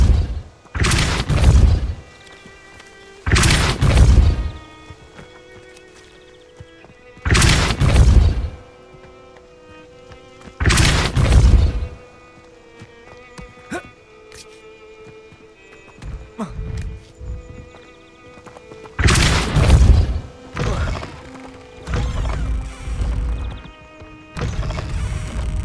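Repeated booming blasts of the Depulso force spell in the game Hogwarts Legacy, several loud impacts spaced a few seconds apart over quieter game ambience and scattered clatter.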